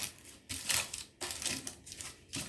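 Parchment paper crinkles and rustles in bursts while being pressed into a bread pan, with several separate scrunching passes and short pauses between them.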